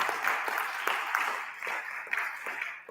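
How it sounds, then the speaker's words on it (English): A high-school audience applauding steadily, dense overlapping claps at moderate loudness with a few sharper claps standing out. "another round of applause for everybody."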